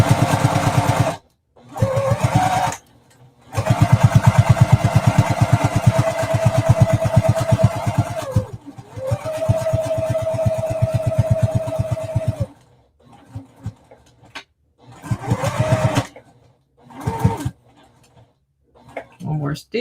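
Machine stitching an in-the-hoop mini quilt runs in loud, close bursts of rapid mechanical whirring, some lasting several seconds, separated by short pauses, with a person talking in between.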